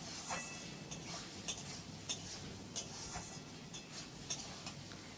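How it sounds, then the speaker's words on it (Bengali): Spice masala of chilli and cumin powder being stirred and fried in a pan for mutton, with a steady faint sizzle and irregular light scrapes and clinks of a spoon against the pan, no talking. "1 চামচ জিরে গুঁড়ো দিয়ে আমি আবারও মশলাটা ভালো করে কষিয়ে নেব"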